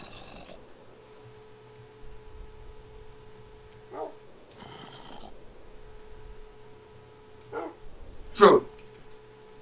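In a Minecraft game, a dog gives short, sharp barks at scattered moments, the loudest near the end, over a quiet steady hum with occasional voices.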